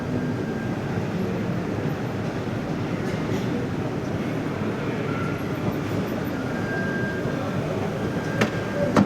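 Steady broadband rumble of a metro train running through a station, loud and continuous with a faint brief squeal near the end, no clear talk.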